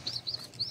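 Short bird chirps from a pigeon kept outdoors at a fancier's loft, three quick high tweets in a row, fairly faint over low background hum.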